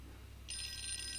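A phone rings in a visual novel-style video game, a steady electronic trilling ringtone that starts partway through and holds at moderate level over a low background hum.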